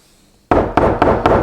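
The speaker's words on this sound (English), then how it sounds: "Just grab my little hammer." A small hammer tapping a French pricking iron into leather, with four firm knocks about a quarter second apart, close and loud, after a moment of near silence.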